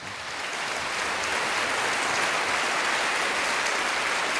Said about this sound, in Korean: 한번 박수를 한번 쳐보세요.